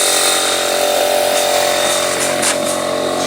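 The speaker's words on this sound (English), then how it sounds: "standing right next to the compressor, so it's gonna be a little loud for a second." Close beside an air compressor running on a roofing jobsite, a loud, steady mechanical whine and hum drones continuously with faint clanks over it.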